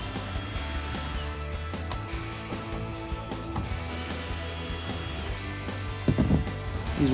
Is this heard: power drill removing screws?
yes